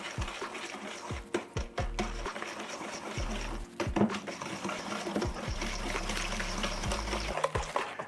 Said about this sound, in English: And now you just whisk this all together.